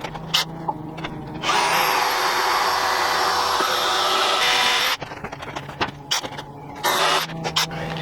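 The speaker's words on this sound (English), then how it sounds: "So now I'm gonna drill here the bottom one, put a bolt in it" A power drill bores a bolt hole in metal for a tank gun cradle sled, whining loudly and steadily for about three seconds, close by, with short bursts and clatter before and after.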